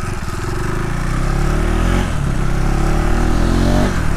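A 2025 KTM Adventure 390X motorcycle rides along with a steady, loud engine drone, the revs rising and dipping slightly through the ride under constant wind noise.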